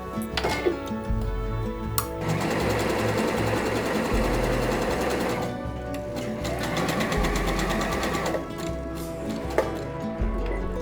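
A sewing machine stitches a tightly stretched skirt with a fast, even mechanical chatter. Short bursts change pace and break off briefly, close and clear, with no voices.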